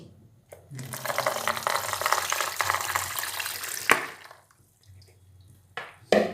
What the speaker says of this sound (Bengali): মটরশুঁটিগুলো ভালো করে ধুয়ে নিলাম ধুয়ে জল ছেঁকে নিচ্ছি